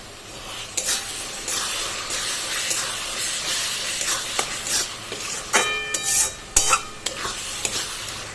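Spice masala with turmeric being stirred and fried in a pan for Bengali chicken kosha: steady close hiss with scraping spatula strokes and a few sharper clinks toward the end, no voices.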